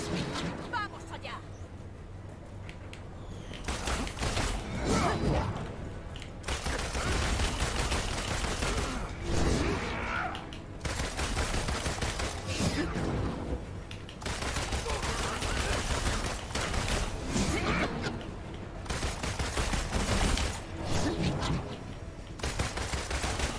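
Rapid gunfire from a woman who never reloads in Marvel's Avengers on PS4: dense, sustained bursts of shots with game music and effects, and voices talking over it.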